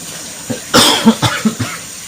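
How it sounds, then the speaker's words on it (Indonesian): A person coughs several times in a short, uneven burst, close and fairly loud. "Batuk seperti itu."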